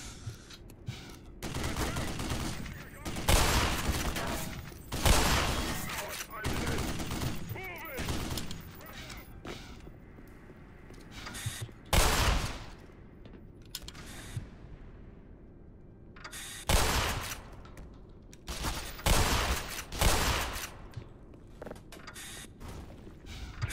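Gunfire and shotgun blasts in the video game Black Mesa, loud bursts and volleys coming in clusters with short quiet gaps between them, the bangs ringing out and decaying over about twenty seconds.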